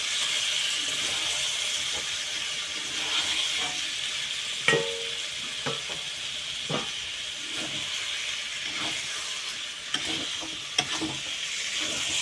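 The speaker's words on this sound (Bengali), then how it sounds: "এবার ম্যারিনেট করা চিকেনটা দিয়ে দেব। চিকেন ভালো করে কষিয়ে নেব।" Marinated chicken fries in hot spiced oil while a spoon stirs it around the pan, a steady close sizzle broken by scattered scraping clicks and knocks.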